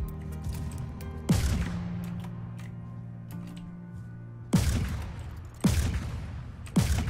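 Pistol shots fired in a video game: four sharp, loud cracks at irregular intervals, each followed by a short ringing decay, with faint background game noise and no talking.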